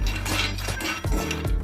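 Almonds dry roasting in a hot kadhai, stirred with a metal spoon, giving repeated close scraping and clinking strokes with a rattling, dry texture throughout.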